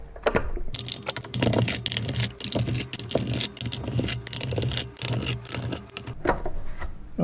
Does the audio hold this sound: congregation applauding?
no